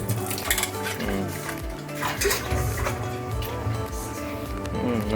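A copper pot being scrubbed with red soil, giving steady rough rubbing and clattering metal knocks close by, continuous and fairly loud without talk.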